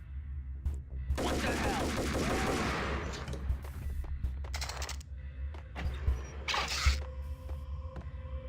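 Gunfire from weapons in the Max Payne video game: a long burst of rapid automatic fire, then scattered single shots and a short second burst, with clicking mechanisms between them.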